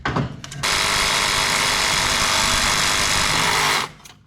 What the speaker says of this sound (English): So what is he doing? Sawing.